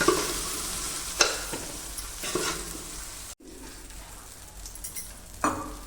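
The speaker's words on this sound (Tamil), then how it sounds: "அதே வடச்சட்டியில் கொஞ்சோண்டு எண்ணெய் ஊற்றி இஞ்சி பூண்டு பேஸ்ட்டு போட்டு சிக்கனை எடுத்து போட்டு நல்லா வதக்கணும்" Chicken pieces frying and being stirred in a little oil with ginger-garlic paste in a kadai for a chicken gravy, a steady sizzle broken by several loud scraping stirs and a brief clatter near the end.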